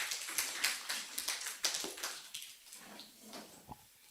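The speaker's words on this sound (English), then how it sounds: "Another round of applause for Professor." Scattered hand claps from a small audience at the opening of a mentors' research workshop, sparse and uneven taps rather than a full ovation, moderately quiet.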